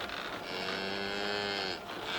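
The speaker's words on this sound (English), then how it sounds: "Have you fed the cows and sheep yet, Shem?" A cow on Noah's ark lets out one long, drawn-out moo in a dramatized Bible story, a steady tonal bellow lasting over a second, fairly close and clear with no voices over it.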